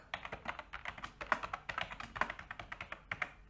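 A password typed on a computer keyboard, with quick close key taps that come in an uneven rhythm and keep going with no talk.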